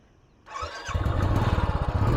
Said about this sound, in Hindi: और अब अगर इसको स्टार्ट करें